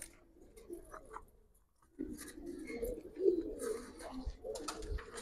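Pigeons coo in a loft of ringed Giribaz pigeons, soft repeated low calls that grow louder after a quiet opening, with faint rustling and background noise around them.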